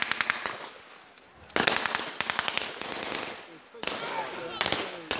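At a war reenactment, Enfield rifles and a Thompson submachine gun fire in sharp, rapid cracks: rattling bursts and single shots repeating across the field at fairly close range, with a low background between volleys.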